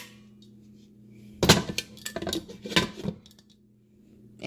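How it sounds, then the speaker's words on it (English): Lid set onto a cooking pot of simmering fajita pasta, a cluster of metallic clanks and rattles in the middle of the clip, close and fairly loud, with quiet stretches before and after. "Put the lid on it."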